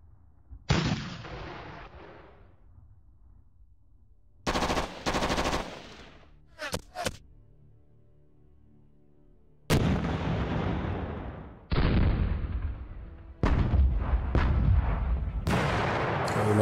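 Tank and artillery fire from the wargame JTS Fulda Gap 85: loud, separate bursts of booming gunfire and crackling shots, several volleys with short gaps between them and no talking.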